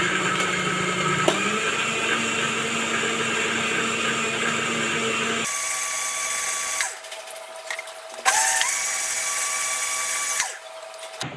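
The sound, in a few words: blender blending Brazilian lemonade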